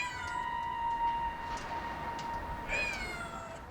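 Stray kittens lost in an unfamiliar place meow repeatedly in high, thin cries, several overlapping calls spread across a steady background hiss.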